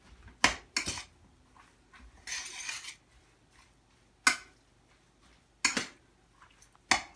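Ingredients stirred together in a bowl, with a few sharp, close clinks of utensil against the dish and a short scraping rush in between, spaced out over quiet pauses.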